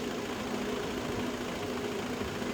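A parked car's engine left idling beside a road in East London, a steady low hum with a faint even drone holding throughout, moderately quiet and unbroken, no talk over it.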